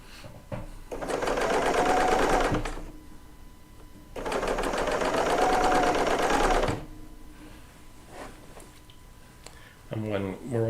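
A serger sewing machine stitches quilt fabric together in two long, loud, steady whirring runs, each lasting a couple of seconds, with a quieter pause between them. A voice speaks briefly at the end.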